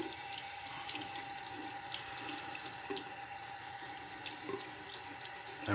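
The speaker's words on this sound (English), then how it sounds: "Okay, rinsing out my razor." A razor is rinsed under a running bathroom tap, a steady close stream of water splashing into the sink throughout, with small fluctuations as the blade moves through the flow.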